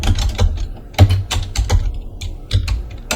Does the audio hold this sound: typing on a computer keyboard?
yes